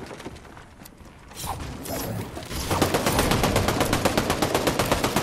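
Rapid automatic gunfire in an online battle video game, faint sporadic shots at first, then a loud, steady burst of evenly spaced rounds close by for the last few seconds.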